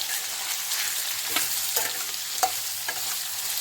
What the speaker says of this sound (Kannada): ಕ್ಯೂಬ್ಸಾಗಿ ಕಟ್ ಮಾಡ್ಕೊಂಡಿರುವಂತಹ ಸೋರೆಕಾಯಿನ ಇದಕ್ಕೆ ಆ್ಯಡ್ ಮಾಡ್ಕೊಂಡ್ಬಿಟ್ಟು ಸ್ವಲ್ಪ ಸಾಲ್ಟ್ ಹಾಕ್ಬಿಟ್ಟು ಫ್ರೈ ಮಾಡ್ಕೋತೀನಿ